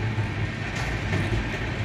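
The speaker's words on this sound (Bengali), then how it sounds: "আর ট্রেন যাচ্ছে বহুত স্পিডে" Constant low rumble and rattle from inside a fast-moving train from Kolkata to Varanasi, loud and steady throughout.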